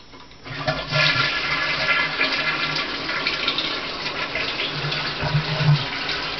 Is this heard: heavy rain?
no